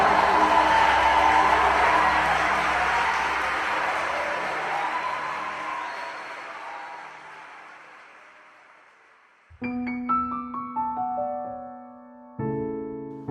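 Congregation applauding at an online church conference, a dense wash of clapping and crowd noise that fades over several seconds, followed by music.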